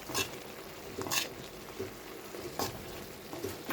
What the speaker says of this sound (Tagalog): halo-haloin na natin para magkalasa